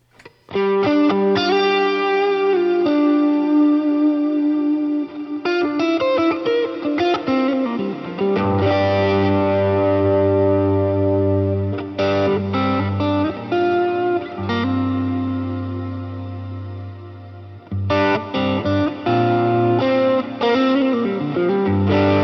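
Heavily distorted electric guitar through a Line 6 Helix distortion effect, playing chords and riffs, loud and saturated, with sustained crunchy tones, brief pauses between phrases, and some added reverb.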